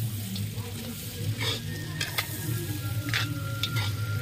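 Ginger and garlic fry in a pan while being stirred, a continuous sizzle under repeated scraping strokes of a spatula, close and fairly loud, with no speech.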